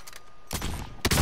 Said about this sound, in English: I sniped him out of the sky, bro